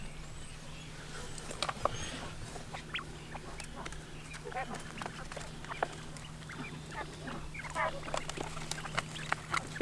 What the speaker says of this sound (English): So the ducks have a bigger place to roam around now